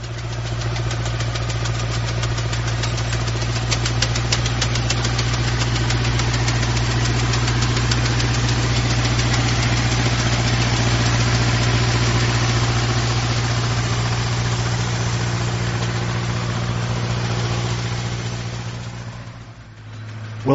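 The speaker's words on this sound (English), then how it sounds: "What you just heard was the tractor running down the rows of hops with a scissor" A tractor with a scissor cutting mechanism runs down rows of hops during a harvest in Tasmania, a loud, constant rumble with a rattling, knocking mechanical texture, fading slightly just before the end.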